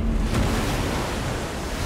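Water gushes out in the video game Minecraft: Story Mode, a steady loud rushing wash that fills the whole clip without letup.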